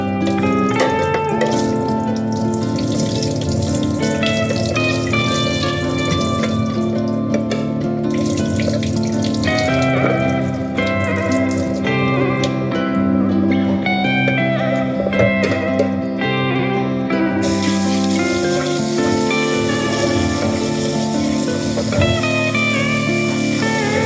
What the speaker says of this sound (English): then I'm going to remove that water and give them one last rinse.